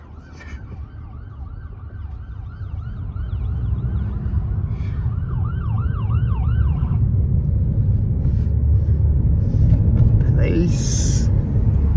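An ambulance siren wails in a rising and falling pattern over the rumble of traffic in the Bournemouth area, heard from inside a taxi, then fades as engine noise grows louder.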